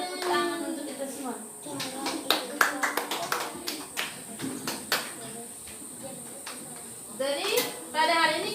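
A school class clapping hands in a rhythmic pattern, sharp clustered claps mixed with a chanting voice and children's voices, close and lively with pauses between bursts.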